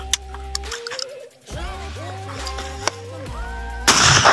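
Shotgun blasts at clay targets on a shooting range: a few sharp reports spaced over several seconds, with a louder burst near the end, amid outdoor noise and tonal background sounds.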